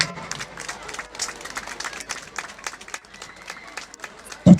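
A crowd at a school cultural festival in the DR Congo claps in a dense, steady patter of applause, moderately loud and sustained, ending with a sharper burst of noise.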